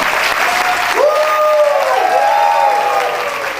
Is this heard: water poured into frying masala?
no